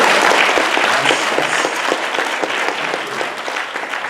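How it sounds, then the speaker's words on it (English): Congregation clapping in a Baptist church celebrating an anniversary, loud applause with distinct individual claps that settles into a steadier, slightly quieter patter, no voices over it. "And you can clap, that's what we have."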